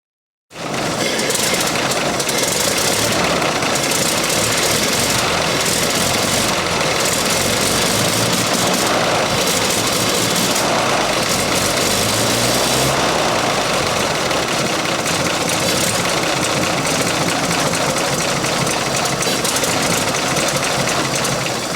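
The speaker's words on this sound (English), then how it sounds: "Now let's get in and hear this engine. This is the 310." A 1929 Buick 44 Roadster with its 310 engine runs steadily for the whole stretch, a loud, continuous idle with low rumble and mechanical clatter, close up and with no talking.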